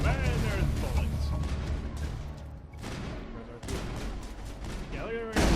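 Dense gunfire rattles through a firefight in the video game Mass Effect: sustained bursts and shotgun blasts loud throughout, with brief lulls and someone talking over the combat.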